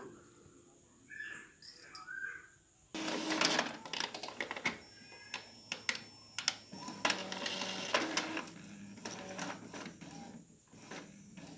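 An Epson L3150 inkjet printer prints a page, with a close, repeating mechanical whirring, clicking and rattling of the print head shuttling back and forth in irregular bursts.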